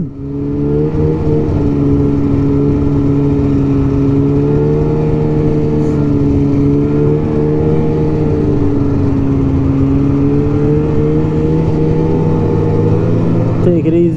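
A 1999 Polaris Indy Classic 500 touring snowmobile with a Fuji 500cc liquid-cooled engine runs steadily and loud nearby, holding a strong droning idle with slight pitch wavering throughout, still cold after warming up.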